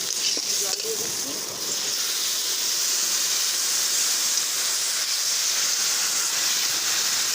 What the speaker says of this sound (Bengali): দেখো জল দিয়ে দিচ্ছি।